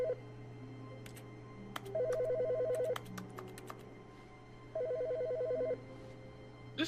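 Telephone ringing inside the video game The Stanley Parable: Ultra Deluxe, two clear rings of a rapid warbling electronic bell, each lasting about a second, separated by a pause over a steady low game hum.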